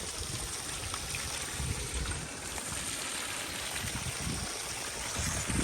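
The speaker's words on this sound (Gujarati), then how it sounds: "કેવી રીતે ધોવાય છે બટાકો." Water rushes and churns steadily in a machine washing freshly dug potatoes on a Gujarat potato farm, a continuous close, noisy wash with no pauses.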